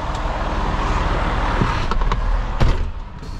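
A semi truck rolls forward to drop a trailer for service, its engine rumbling in a steady, close drone that ends with a sharp metallic clunk near the end.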